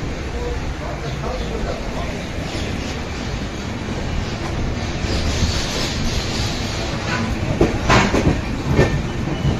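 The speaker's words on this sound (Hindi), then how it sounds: "हमारी ट्रेन अब खुल गई है" A passenger train on the Dhanbad to Delhi route pulls away and runs along the rails, a loud continuous rumble with faint clacking wheel beats growing toward the end, while people talk in the background.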